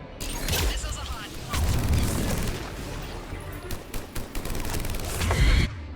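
Missiles and weapons fire in the Mass Effect 3 video game, a continuous barrage of booms and crackling shots with heavier low thuds rising and falling throughout, close and loud.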